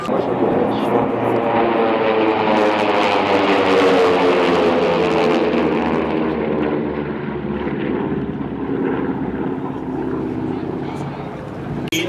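A racing airplane flies at the 2011 Reno Air Races, its loud propeller engine droning and shifting as it passes overhead, with a commentator's voice over the engine.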